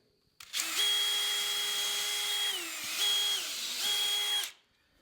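A power drill bores a hole through the end of a metal hook, one steady whining run of about four seconds with two brief dips in speed, loud and close with no talk.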